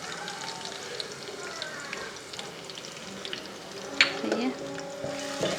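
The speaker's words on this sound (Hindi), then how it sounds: "ये हम इसमें ऐड कर देंगे" Ginger garlic paste fries with browned onions in a pan for masala tori sabzi, a steady close sizzle with a clattering stir partway through and a voice speaking briefly.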